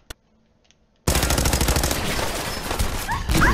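Raiders in Fallout 4 open fire after a near-silent moment with one faint click: sudden loud, rapid automatic gunfire bursts that continue without pause to the end.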